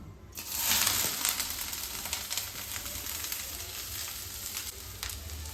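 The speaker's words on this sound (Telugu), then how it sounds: "ఆ నెయ్యిలో దీన్ని ఫ్రై చేయాలి మంచిగా, అది క్యారెట్ స్మెల్ పోయేదాకా" Grated carrot fries in ghee for carrot halwa, a close, continuous sizzle with repeated stirring scrapes and small crackles throughout, no voices.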